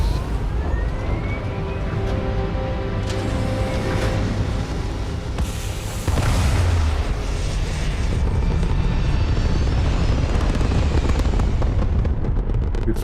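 A spaceship lifts off in the video game Starfield with a loud, continuous engine roar and rumble that swells partway through and holds steady, dense and close with no speech.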